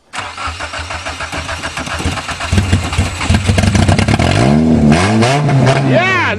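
A Nissan Sentra is started for the first time after winter on a second battery: the starter cranks, the engine catches, revs up loudly and then settles into a steady idle, close to the microphone.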